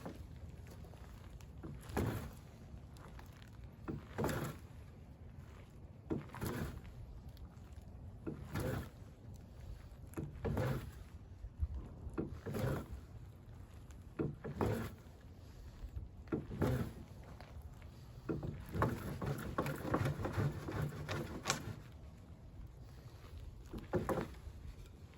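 A fire roll with char cloth is worked by hand in about ten slow forward preheat rolls, making faint, rhythmic rubbing strokes roughly two seconds apart over a quiet outdoor background.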